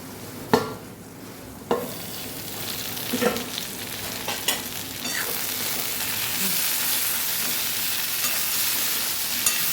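Capsicum and potato Kathiyawadi sambharo cooks covered over a low gas flame, giving a continuous soft sizzle punctuated by a few sharp clinks and knocks early on, then settling into an even frying hiss.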